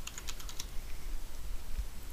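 Keys clatter on a computer keyboard during a Minecraft modded game session, a short burst of quick, light clicks near the start followed by quieter tapping over a soft background hiss.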